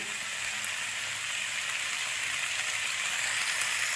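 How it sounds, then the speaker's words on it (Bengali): Faint, even hiss of spring onion leaves frying in a pan over high heat, constant and unbroken from start to finish. "এরকম পেঁয়াজ পাতাটা দিয়ে ভেজে নেব। জোর আঁচে করবেন"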